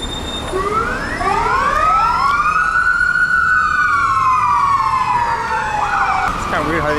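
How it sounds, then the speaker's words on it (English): A wailing emergency vehicle siren sweeps up and down in long rising and falling tones, loud and continuous across the clip, with a second siren layered beneath and traffic rumble in the background. "Kind of weird how they didn't start their sirens right away instead."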